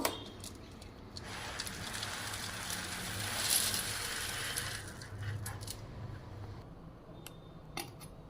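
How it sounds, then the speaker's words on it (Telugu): Chana dal roasting in a pan gives a soft, continuous crackle and rustle, with scattered sharper ticks and scrapes as the lentils are stirred, heard close and fairly quiet with no talking. "వేగిన తర్వాత ఎంత చక్కగా మంచి శబ్దం వస్తుంది కదా"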